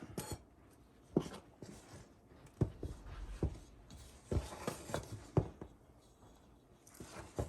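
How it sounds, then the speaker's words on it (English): A spoon folding sticky sourdough bread dough in a bowl, giving soft, irregular squishy scrapes and taps at close range, recorded quietly with no talking. "And then I'm going to fold it in with my spoon."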